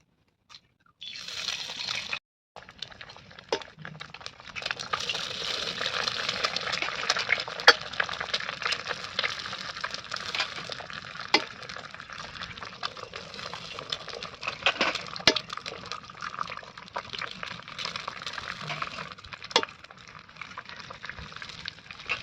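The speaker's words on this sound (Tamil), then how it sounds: "முதல்ல முட்டையை உடச்சி ஊற்றுறேன்" An egg is cracked and poured into hot oil in a pan, followed by a steady, soft crackling sizzle of frying that runs on with faint occasional ticks and clinks, close and without talk.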